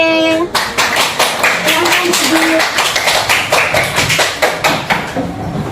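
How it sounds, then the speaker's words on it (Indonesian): Applause from a classroom audience for a student group at an Islamic teacher-training session, a dense, loud burst of clapping that starts abruptly and continues steadily throughout. "Tepuk tangan untuk kelompok C"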